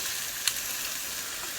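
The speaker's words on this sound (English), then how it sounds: "You can hear it still sizzling." Eggs sizzling in a frying pan on a stovetop with the heat turned off, a steady soft hiss with one faint tick partway through and no talking.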